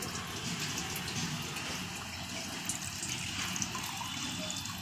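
Cold water pours steadily from a clay matka, a continuous close trickle and gush of liquid with no talking over it.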